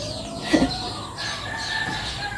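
Chickens cluck and a rooster calls near a home, a short burst of fowl sounds over steady background noise with no talking.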